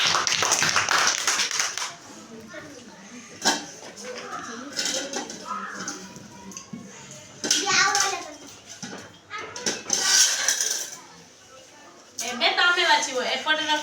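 A group of young children claps hands during a classroom fruit and vegetable sorting activity, with short bursts of clapping scattered between lively children's chatter and an adult's voice.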